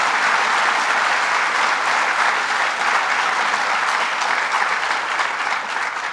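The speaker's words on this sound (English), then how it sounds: "Let's give him a big round of applause." Audience at a governor's jobs announcement in Dunkirk, New York, applauding loudly and continuously, a dense even wash of clapping without pause.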